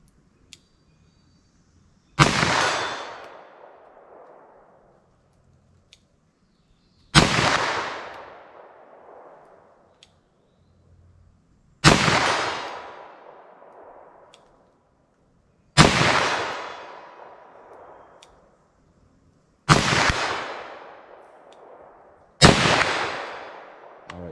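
Six loud, close gunshots from 9mm+P and .357 Magnum Glaser Pow'R Ball rounds fired at an outdoor range, each a sharp crack with a decaying echo, spaced about four seconds apart with silence between.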